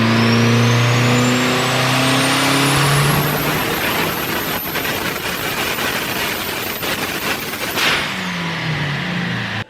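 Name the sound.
SRT-4 swapped Dodge Spirit R/T engine revving on dyno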